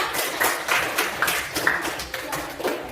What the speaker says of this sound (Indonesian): Tepuk tangan untuk Tenda.